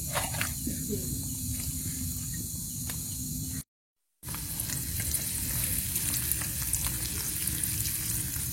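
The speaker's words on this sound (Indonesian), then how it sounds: "Ini mau bikin nasi goreng." Nasi goreng, Indonesian fried rice, fries at a camping ground with a loud, continuous sizzle and hiss close up, stirring noises mixed in, and a brief cut to silence midway.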